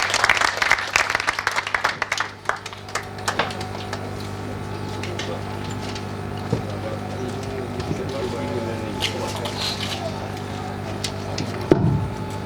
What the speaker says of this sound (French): Des applaudissements pour notre maman